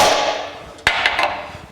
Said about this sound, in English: hit our center punch with a hammer.